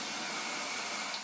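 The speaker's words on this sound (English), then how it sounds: "I'm going to take the hairdryer, plug it in," Hair dryer plugged into a Gizzu Hero Pro1 portable power unit, blowing hot air on maximum with a constant, loud, broadband whoosh and no voices.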